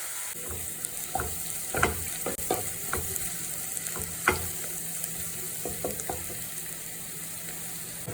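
Onions and ginger paste fry in a pan for a prawn curry, a continuous low sizzle punctuated by spoon stirs and scrapes against the metal, with no talking.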